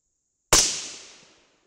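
A single sharp crack from a .223 rifle fired on a range with a clean barrel, loud and close, decaying into a short echoing tail after about a second.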